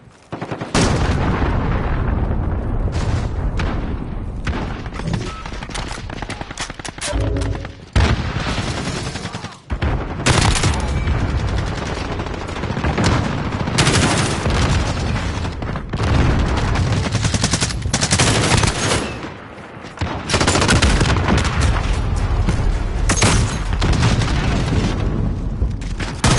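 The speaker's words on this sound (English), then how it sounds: "Allied cruise missile launched." Heavy explosions from a cruise missile strike in Call of Duty crash almost nonstop among rapid gunfire, loud and dense for the whole stretch, with only a few brief dips between barrages.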